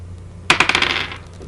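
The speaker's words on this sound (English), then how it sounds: "So the dice are rolled" A six-sided die dropped and rolling onto a hard surface, a sharp first clatter followed by several quick, diminishing bounces and a short rattle, close and alone.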